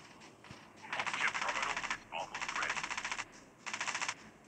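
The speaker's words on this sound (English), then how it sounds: "Whoever is shooting me must have missed a lot." Automatic gunfire in the Call of Duty battle royale mode comes in three rapid bursts of close, crackling shots, each lasting about a second, with brief pauses between them.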